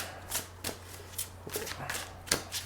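Original Angel Tarot cards are shuffled by hand in a quiet room, several separate riffling bursts spaced irregularly across a few seconds, soft and close.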